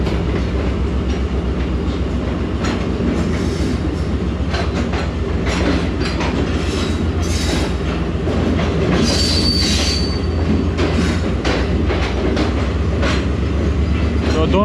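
Pakistani passenger train, the Rahman Baba Express, rolling past close by, a loud continuous rumble of wheels with rhythmic clatter and high squealing from the rails.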